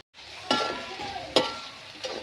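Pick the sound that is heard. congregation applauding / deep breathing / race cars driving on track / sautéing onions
sautéing onions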